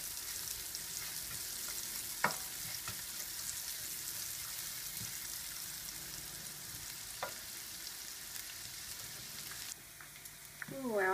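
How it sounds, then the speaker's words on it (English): Finely chopped shallots fry in oil until lightly golden for a Thai red chicken curry. A constant close crackle and hiss is broken by a few sharp utensil taps, and the sound shifts briefly near the end. "So now I'm going to add to the oil the finely chopped shallots. And just cook those till they're lightly golden."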